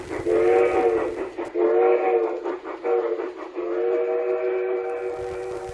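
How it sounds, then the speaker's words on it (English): A G scale model steam locomotive's whistle blows in several long harmonic blasts with short breaks between them, loud and close, with faint mechanical chuffing underneath. "the beautiful sound of her steam whistle"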